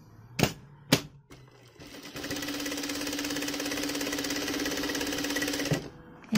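A sewing machine stitching elastic made from scrap socks: a couple of sharp clicks first, then the motor runs with a steady, even mechanical whir and rapid needle chatter for about four seconds before stopping.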